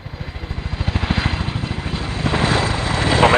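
A Chinook twin-rotor helicopter at the Royal International Air Tattoo, its rapid rotor thudding pulsing loudly at first, then giving way to a swelling, steady engine roar as it draws nearer.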